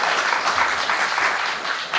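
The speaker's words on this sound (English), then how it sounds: "So a round of applause" An audience applauds at a poetry night in Malibu, a steady, dense wash of clapping from many hands that holds evenly for the whole stretch with no voices over it.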